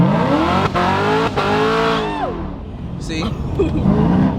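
A 1000hp Camaro ZL1 with traction control off accelerates hard, its engine note climbing loudly through the gears before easing, with faint tire noise, heard from inside the car as a voice speaks briefly.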